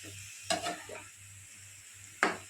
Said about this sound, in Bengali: এবারে ভালো করে সব কিছু একসাথে মিশিয়ে নিচ্ছি।